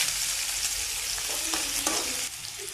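Dried red chillies, green chillies, onion and curry leaves sizzle in hot oil as a tempering for potato masala curry, a steady close crackle with a few stirring scrapes of the pan.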